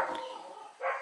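Neighborhood dogs bark from a short distance outdoors, two or three quick barks in succession, moderately loud.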